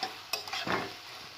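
Potato, tomato and cabbage sautéing with spices in hot oil, a steady soft sizzle with a couple of brief scraping stirs of a spoon in the pan, close and fairly quiet, with no voices.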